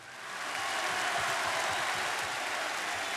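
A large outdoor audience at a football club's player presentation at the Colosseo Quadrato in Rome bursts into applause, swelling within half a second into a dense, sustained wash of clapping.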